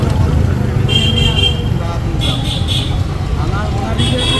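A jammed road in Bangladesh: steady, close traffic rumble with car and bus engines idling and creeping, broken by a few short horn toots. A person talks over it throughout.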